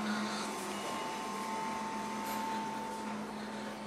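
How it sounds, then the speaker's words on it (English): A steady low electrical hum and whir come from the cooling fan of a solar charge controller and a 48-volt, 3000-watt inverter in an off-grid home, faint and constant with no talking. "You can hear the fan of the charge controller and inverter in the background."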